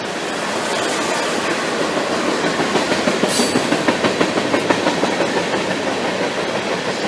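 A long train rolls by nearby, its steady roar joined midway by a rhythmic clickety-clack of wheels over rail joints.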